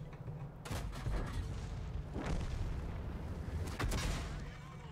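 Three heavy tank gun blasts from a derp gun in a video game battle, each a sharp boom with a rumbling tail, spaced roughly a second and a half apart over a steady low engine drone.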